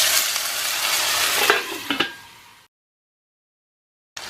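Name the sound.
chopped tomatoes sizzling in a pan with cumin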